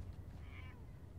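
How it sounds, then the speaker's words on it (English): A cat meows once in the video game Fallout 4, a short faint call over a steady low background hum. "A cat."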